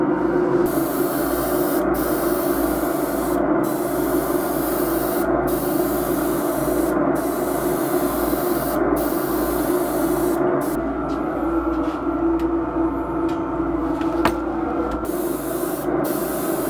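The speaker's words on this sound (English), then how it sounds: "I'm ready to spray. To paint our first color, which is matte black." Matte black spray paint hisses steadily from a can for a long stretch while a part is coated, loud and close, broken by several brief pauses between bursts.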